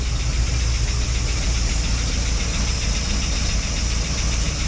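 A 1979 Dodge Power Wagon engine, abandoned for 25 years, idles steadily on fuel fed from the bowl through an old muffler, with a constant low rumble and a faint knocking texture throughout and no talking.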